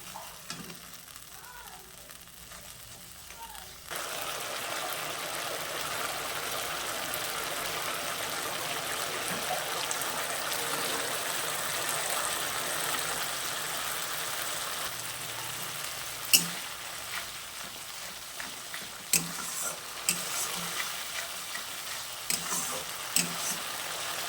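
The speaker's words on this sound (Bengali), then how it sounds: "দিয়ে ভালো করে মশলাটা কষে নিতে হবে" A Bengali masala spice paste with water fries in a pan for a potol posto dish, a continuous close sizzle that surges suddenly a few seconds in and holds steady, with occasional stirring clanks.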